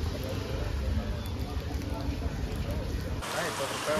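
Heavy monsoon rain pours at the back gate of Madgaon railway station, a dense steady roar of rainfall that continues without pause and shifts in tone near the end.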